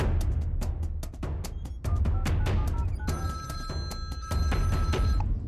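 A telephone rings in a Hindi-dubbed action movie scene, with repeated electronic ringing tones over a background of sharp percussive music hits.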